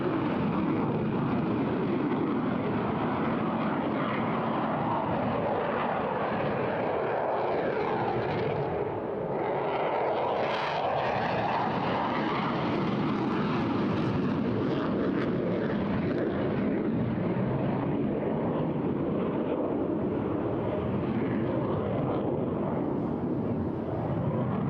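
A Eurofighter Typhoon jet flies a high-speed display pass at the Eastbourne Airshow 2023, a loud sustained engine roar that swells and shifts in pitch as it passes overhead, dominating the scene.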